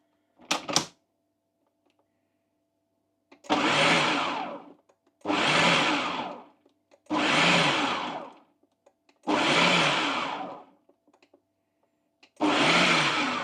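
Kitchen blender whizzing a Christmas pudding mixture in five loud bursts of a few seconds each, separated by short silent pauses, after a brief clatter at the start.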